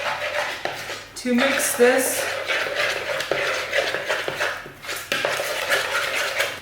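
A utensil scrapes and clinks in a bowl while stirring a Parmesan cheese mixture for a lasagna dome, close and uneven, with a person talking over it.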